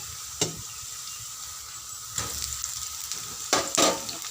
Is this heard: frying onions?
yes